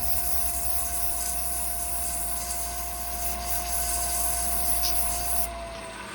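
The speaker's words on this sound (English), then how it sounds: "just gonna dust it with some sandpaper" Sandpaper rubs against a wooden Christmas tree spinning on a wood lathe, a steady close scratching hiss over the motor's constant hum and whine that drops away near the end.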